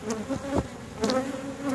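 Honeybees, including drones, buzz steadily around an open backyard hive, a close, continuous drone with a few louder passes.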